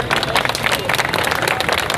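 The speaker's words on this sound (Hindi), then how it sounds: "यहाँ तालियों पे पाबंदी नहीं लगा रखा" A large audience at a poetry recital claps in a dense, continuous burst, loud and close, with a voice partly mixed in beneath the clapping.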